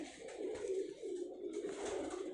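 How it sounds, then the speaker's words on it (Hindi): A Dubai pigeon coos in a steady, continuous low throaty warble, close and fairly quiet, with soft swells and no voices. "अब लास्ट ये कबूतर आपको दिखाएंगे, ये हमारा है दुबई वाला"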